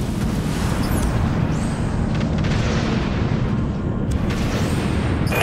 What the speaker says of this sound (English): Broadside plasma gun.